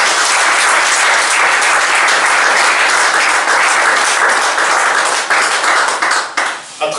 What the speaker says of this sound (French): je vais vous demander qu'on puisse l'applaudir et applaudir le SICOD